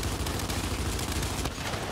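Dense, continuous gunfire from Gears of War 5 game combat, a steady fusillade that stays loud and unbroken throughout with no clear pauses.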